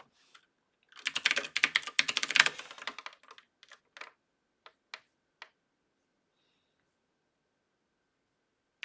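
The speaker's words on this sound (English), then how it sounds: "it's a mechanical keyboard. I use a mechanical keyboard" Typing on an old mechanical keyboard from around 2013: a quick, crisp burst of clicky keystrokes, then a handful of isolated, sharp key presses spaced out in near silence.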